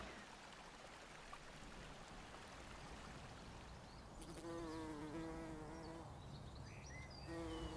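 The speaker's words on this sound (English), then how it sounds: "I'm surrounded here by this beautiful buzzing. These pulmonarias are full of bees." Bees buzz steadily around pulmonaria flowers in a garden, a soft continuous hum that grows clearer and more tonal in the second half, with no voices.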